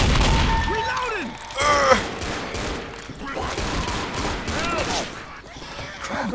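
Rapid gunfire from survivors shooting at zombies in the Left 4 Dead video game, loud dense bursts of shots mixed with shouting voices and game effects throughout.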